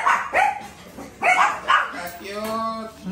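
A dog barks and yips a few times in short, sharp bursts close by, mixed with people talking.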